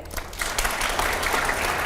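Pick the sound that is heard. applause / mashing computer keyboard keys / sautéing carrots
applause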